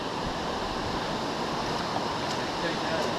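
Water from Forney Creek, a mountain stream, runs over moss and rock in a steady, close, unbroken rush that fills the whole clip with no clear breaks.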